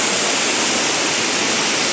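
Small waterfall on the Katika waterfalls trek, a loud, steady broadband rush of falling water heard close up with no talking.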